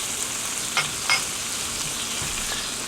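Chopped onions and fresh garlic sizzle in a pan for bacon jam, a steady close frying hiss with a couple of brief stirring clinks, no voices.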